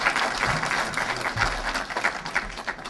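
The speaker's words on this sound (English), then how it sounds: "Let's give her a round of applause" A crowd applauds at a Côte d'Ivoire salon event in Los Angeles, filling the room with sustained, dense clapping that swells and dips slightly, plus a low rumble underneath and a few scattered voices.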